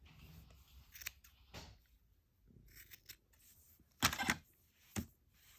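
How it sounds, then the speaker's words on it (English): Scissors snip through a bundle of yarn while making a tassel, several distinct crisp cuts spaced irregularly, the loudest pair near the end, close and clear with no talk. "So I'm sort of cutting in the middle of it"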